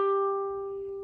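A single koto string, string 7, plucked once, a bright sustained tone ringing out and slowly fading, close and alone.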